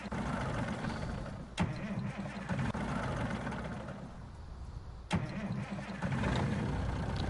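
A farm truck's engine cranks and struggles twice before catching, then settles into a steady idle on a cool morning, close and fairly loud with no talk.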